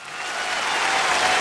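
A live stage audience breaks into applause for a Shaolin hard qigong act, a dense, steady clapping that swells louder over a brief moment with no talk.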